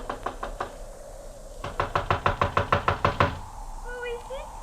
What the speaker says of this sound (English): I walked up the narrow awning-covered gangplank that led to the little deck and knocked at the door.